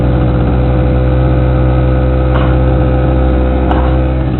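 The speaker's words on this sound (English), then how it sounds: "So, it's our generator." A portable emergency generator runs steadily at idle, a loud, close, continuous engine drone with no change in pitch and no talking.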